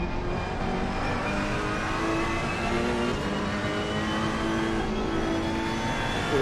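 GT3 race cars in Assetto Corsa Competizione on PS5, racing at the India round, hold a steady, loud engine drone with whining tonal lines that stay up the whole time, briefly easing as a car lifts through a corner.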